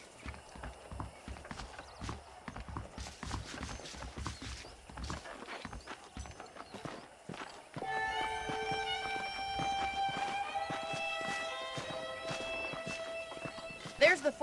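Saddled horses in the Red Dead Redemption video game make rhythmic clip-clopping hoofbeats, with faint whinnies. Voices run alongside, and game music swells in the second half.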